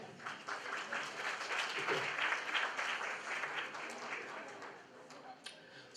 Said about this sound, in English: Your applaud, please.